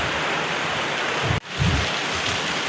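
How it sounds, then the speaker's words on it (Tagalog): Heavy rain pours down at night in a steady, loud, hissing roar, broken by a brief hush and then a low rumble of thunder. "Lakas ng ulan guys, oh."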